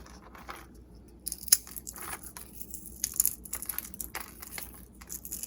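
Dried red peppers, home-preserved, crushed by hand, giving a few dry crackling crunches and crinkles near and moderately quiet, with brief sharp snaps among softer rustling and no talk.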